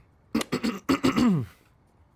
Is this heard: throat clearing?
yes